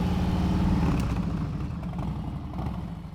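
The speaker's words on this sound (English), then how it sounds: "Listen to his engine." A motorcycle engine idles and burbles with a low, steady rhythmic throb, easing off gradually during a slow, controlled stop, moderately near and fading slightly toward the end, with no talk.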